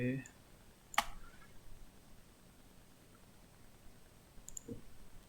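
A computer mouse gives a couple of sharp, quiet clicks during InDesign page layout work, close up in a near-silent room with a faint hiss.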